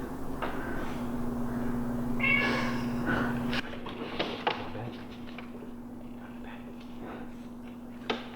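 A house cat meows faintly a few times in a room, over a steady hum and soft background noise.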